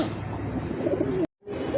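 Baghdadi and Lahori pigeons coo in low, throaty murmurs close by, a brief burst of calls broken by a short moment of silence before resuming.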